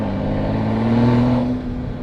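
A loud BMW 435i exhaust with a racing cold air intake roars up close in sport mode, the engine revving and holding a droning pitch before easing back slightly.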